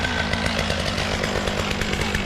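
A big Stihl chainsaw runs steadily at high revs while clearing land for a new house, a loud, close, continuous buzzing whine with no talk over it.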